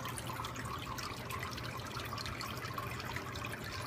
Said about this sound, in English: clear water, or nutrient-less water, is returned back to the tank.